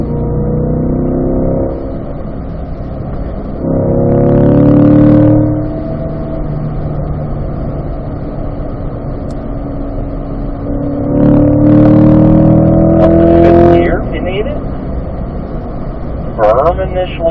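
Race car engine lapping a road course, loud and close, its note climbing and dropping as it shifts down and back up through a turn, with steady engine drone between the revving bursts.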